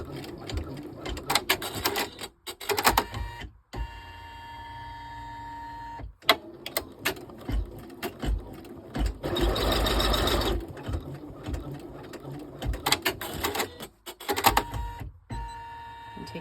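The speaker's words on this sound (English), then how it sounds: "we're going to be making the placement stitches for the hardware" Embroidery machine stitching faux placement lines for the hardware on a lined vinyl zipper purse, running in repeated bursts of rapid mechanical stitching with short pauses between runs, close and steady.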